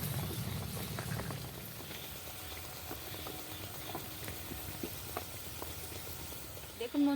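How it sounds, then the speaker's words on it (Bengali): Soft puffed luchi bread fries in hot oil at home on a rainy day, giving a faint, continuous sizzling and bubbling patter with small pops and crackles throughout. "দেখুন বন্ধুরা, লুচিগুলো কেমন ফুলছে।"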